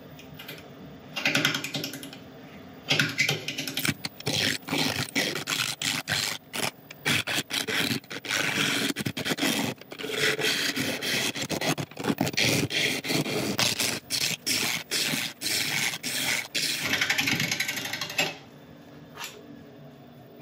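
Cutting tool chatters and bumps against a rough elm bowl blank spinning on a woodturning lathe, producing a dense run of rapid, clattering scrapes with a faint motor whine at the start and end.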